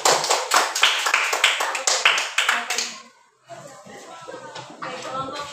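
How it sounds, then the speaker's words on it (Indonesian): Classroom audience clapping for the first student group's recycled mineral-water-bottle project, a dense burst of close hand claps that stops abruptly, followed by quieter room murmur and voices. "Tepuk tangan dulu untuk kelompok satu."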